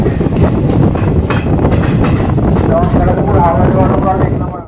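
Passenger train pulling into Kharagpur station in India, a loud continuous rumble of wheels and carriages with squealing rail tones near the end, voices talking underneath.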